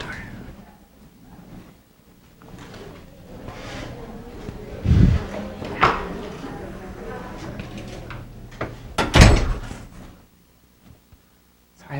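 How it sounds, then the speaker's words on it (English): A classroom door is pushed shut, giving a couple of sharp, loud thumps and a brief latch rattle, separated by a few seconds, with muffled room noise and scattered sounds around them. "Shut the door."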